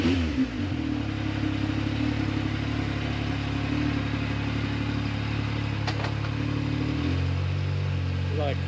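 An Alba motorcycle engine with an SBD kit installed idles and revs with a steady low rumble and exhaust drone, burning residue out of the muffler, changing pitch near the end, with a brief clatter midway.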